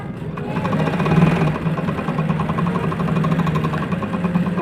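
Sewing machine stitching the back neckline of a frock, a close, steady, rapid mechanical whirr with faint rhythmic ticking that runs unbroken throughout.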